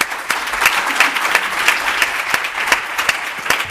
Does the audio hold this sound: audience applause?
yes